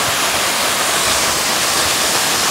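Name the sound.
waterfall rushing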